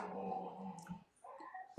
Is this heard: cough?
no